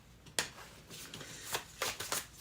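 A deck of tarot cards being shuffled by hand close up, soft riffling swishes and flicks coming in several uneven bursts, fairly quiet and with no talk.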